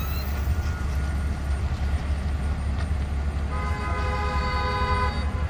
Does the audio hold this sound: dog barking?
no